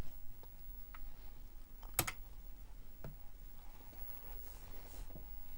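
Keys clicking on a TRS-80 MC-10 computer keyboard, a few sparse taps and one sharper click in a quiet room, close and fairly soft.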